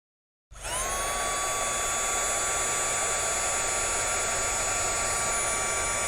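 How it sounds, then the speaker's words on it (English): A heat gun runs on its high setting, switching on abruptly and then holding a loud, steady whirring blow with a constant high-pitched whine for several seconds, with no talking. "grab my heat gun, turn it on high, and you're going to notice that it's going to wrinkle up"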